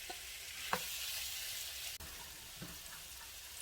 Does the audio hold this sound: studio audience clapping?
no